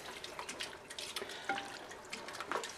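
Hot water poured over congealed chicken for chicken bog, giving a steady splashing, trickling pour with small drips at moderate loudness. No one speaks.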